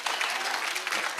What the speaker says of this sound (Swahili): mpatie makofi yake ya heshima.